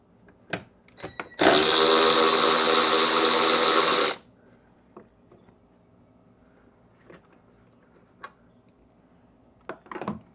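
A power impact tool zips a bolt off a Ford Bronco in one loud, steady burst of under three seconds, with a few sharp clicks and taps of parts being handled before and after.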